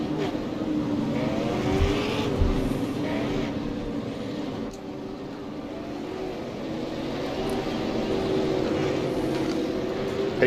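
Super late model race cars at Lanier accelerate back up to racing speed, a steady, dense engine drone from the pack that holds at a fairly even level with a slight rise toward the end.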